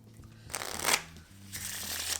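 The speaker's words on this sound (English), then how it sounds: "Spectator shuffles up the cards." Playing cards are riffled and shuffled up close in two quick bursts, the soft whirring flutter rising and settling each time.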